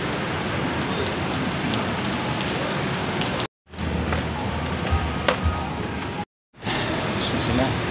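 Heavy rain falls steadily with a dense, continuous hiss, interrupted by two brief cuts to silence.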